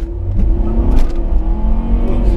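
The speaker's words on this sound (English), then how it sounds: "we are going to test out the V60 T5 Drive-E's acceleration" A 2015 Volvo V60 T5 Drive-E engine accelerates hard on a freeway on-ramp, a steady loud rising drone heard from inside the car with road rumble beneath.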